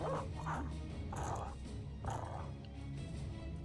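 War dogs bark in the Battle Brothers video game, a few loud yapping bursts spaced over a steady background rumble of battle ambience.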